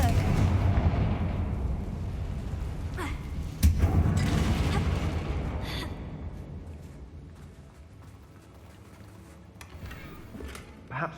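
A Confringo spell explosion in the video game Hogwarts Legacy booms out loud, with a rumbling blast, a sharp second crack partway through, and a long fading roar; voices appear to murmur underneath.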